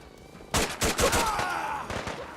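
Rapid bursts of gunfire in Fallout 4 crack out loud and close, a dense volley of overlapping shots running for a couple of seconds before tailing off.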